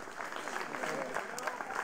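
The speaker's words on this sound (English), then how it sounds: "Lots of cheers for that one." Crowd at a disc golf final cheering and clapping, a dense wash of applause with scattered shouts, steady throughout and heard from some distance, with voices mixed into the noise.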